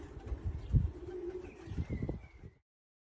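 Racing pigeons coo repeatedly inside a family loft, soft rhythmic throaty calls close by against a low murmur of background bird noise, ending abruptly.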